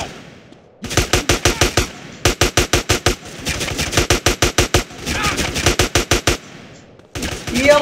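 Automatic gunfire in GTA San Andreas, loud close bursts of about five to seven sharp evenly spaced shots each, repeated several times with short gaps between.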